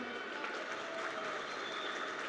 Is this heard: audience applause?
yes